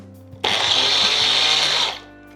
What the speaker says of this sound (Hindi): तो रुक रुक के स्मार्टली इसे ग्राइंड कीजिएगा, वरना क्या होगा, आमंड अपना तेल छोड़ने लगेगा